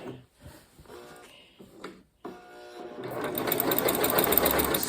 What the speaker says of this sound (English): now I'm going to sew the last strip on